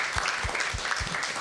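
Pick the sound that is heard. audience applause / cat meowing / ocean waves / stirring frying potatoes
audience applause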